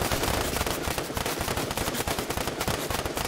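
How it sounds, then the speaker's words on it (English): Guards fire guns in the Fortnite video game, giving a dense, continuous burst of rapid gunfire crackling with no break across the whole stretch. "He's shooting at me"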